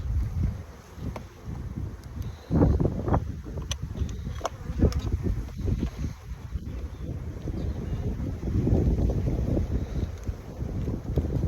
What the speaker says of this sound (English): So it's quite windy outside